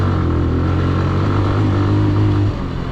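A Benelli motorcycle rides over a rough, dirty road, its engine droning loud and close and holding a steady pitch until it eases off near the end.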